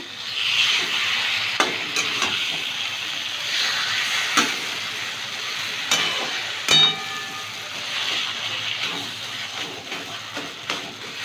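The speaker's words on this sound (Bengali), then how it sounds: "এইভাবে খানিকক্ষণ ধরে ভাজা ভাজা করে নিলাম" Steady sizzling and hissing of taro greens frying in a pan, broken now and then by the scrape and knock of stirring.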